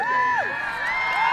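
Spectators at a Renaissance faire jousting match shout and whoop for a charging knight, a loud burst of rising and falling cheers close by.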